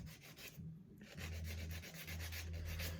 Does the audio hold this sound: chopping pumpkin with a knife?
no